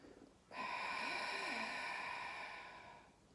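Inhalation during a French exercise class, a single steady breath lasting a few seconds, close and fairly quiet, with a faint tonal hum beneath it.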